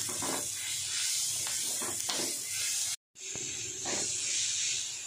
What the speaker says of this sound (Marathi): आता हे आपण मिक्स करून घेऊया आणि 1/2 मिनिट परतूया आपण